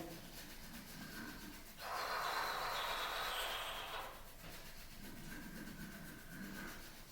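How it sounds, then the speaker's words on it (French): A person breathes deeply during a morning self-massage routine, with one long, breathy exhale lasting about two seconds, close and soft over a low background hiss. "Toujours des bonnes respirations, des bonnes expirations."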